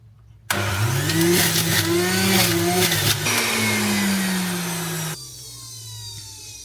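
An electric juicer whirs up suddenly and grinds through handfuls of celery pushed down its chute, a loud mid-pitched motor whine that sags as it bites, holds for several seconds, then cuts off and spins down.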